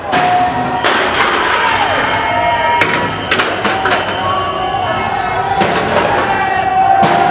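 Blasts from grenades thrown at a Gilets Jaunes street protest in Paris on 14 July 2019 go off as several sharp, loud bangs spread across the stretch, over constant crowd noise and shouting.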